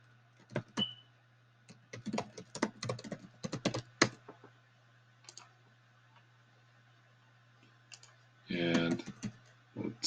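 Keys on a computer keyboard tapped in quick, irregular bursts of clicks, close and fairly quiet, with pauses and a denser cluster of strokes near the end over a low steady hum.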